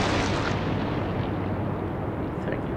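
Naval gunfire and shell explosions from the Atlantic Fleet war game, a loud, continuous rumbling roar of cannon blasts and bursts with no distinct individual shots standing out.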